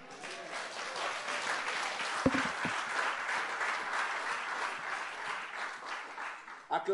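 A church congregation claps and cheers in sustained, dense applause at steady loudness, with a few sharp knocks and a voice breaking in at the very end.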